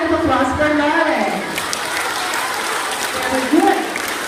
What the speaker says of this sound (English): How about a round of applause for Lauren?